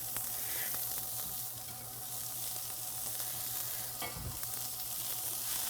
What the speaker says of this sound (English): I'm going to put them face down again in my cast iron pan